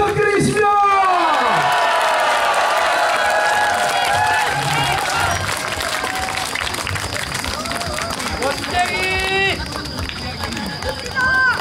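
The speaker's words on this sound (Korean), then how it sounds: "앵콜을 원하는 만큼 함성과 박수를 부탁드리겠습니다." A large outdoor crowd at a 2017 collaboration concert by a Jeollanam-do provincial traditional Korean music orchestra and a navy military band cheers and whoops for an encore, a loud sustained roar of voices and applause.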